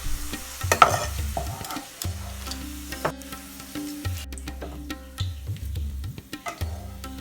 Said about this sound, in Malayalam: ഇതിലേക്ക് മീഡിയം വലിപ്പമുള്ള 2 സവാള കനം കുറച്ച് നീളത്തിൽ അരിഞ്ഞിട്ട് ഒന്ന് വറുത്തെടുക്കാം